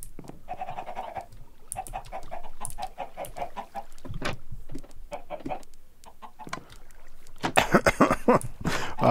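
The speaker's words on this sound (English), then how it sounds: "Why are there chickens all over my base?" Chickens in the video game Minecraft cluck in a series of short, close, repeated calls, with pauses between them and a denser, louder burst of clucking near the end.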